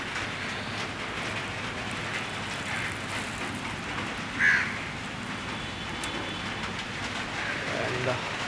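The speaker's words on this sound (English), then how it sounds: "And the rain is outside." Steady rain falls outside in a constant broadband hiss, with a brief louder spatter midway and a faint bird call over the wash.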